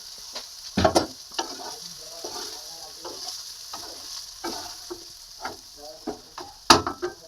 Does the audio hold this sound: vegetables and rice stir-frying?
yes